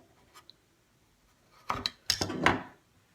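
A knife slicing slits into the plastic shell of a 2017 Subaru WRX valet key, heard as a few faint ticks followed by two short bursts of close, scraping cuts, with no talking.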